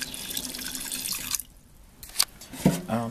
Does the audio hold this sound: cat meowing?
no